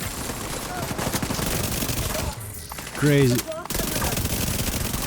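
Rapid Vector SMG gunfire from The Division 2 rattles in dense sustained bursts, loud and continuous, briefly broken by a short gap before firing resumes, with a voice speaking quickly.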